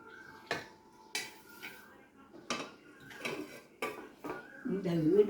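Metal utensils scrape and clank against an iron wok in repeated bursts as fried red noodles are scooped out, with a sizzle building toward the end.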